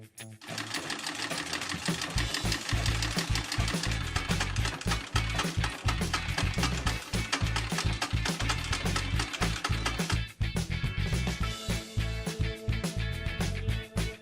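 An antique Singer sewing machine runs steadily and loudly for the whole stretch, its needle mechanism beating a fast, even rhythm with a deep mechanical hum beneath, and no one speaks.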